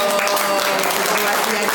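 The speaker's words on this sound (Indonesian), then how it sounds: "Oke, tepuk tangan dong." Applause from a church youth gathering at HKBP Pasar Minggu, a dense wash of clapping that holds steady for under two seconds with voices murmuring underneath.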